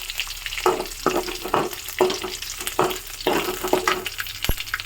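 Garlic fries in a pan for pepper chicken, with a steady close sizzle and a spatula scraping through it in repeated bursts, ending on one sharp knock.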